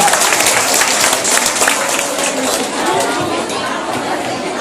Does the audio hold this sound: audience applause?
yes